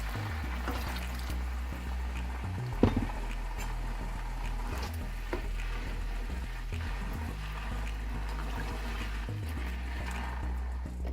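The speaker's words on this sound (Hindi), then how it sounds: "अब इसमें हम 2 गिलास पानी मिला देंगे।" Two glasses of water poured into a pot of degi chana pulao, a steady close trickle and splash over a low continuous stove hum, with no talking.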